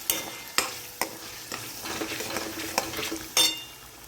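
A spoon stirs and scrapes Kathiyawadi brinjal oro, a roasted eggplant dish with tomatoes, spices and sugar, in a pan, with repeated sharp strokes over a steady sizzle of frying.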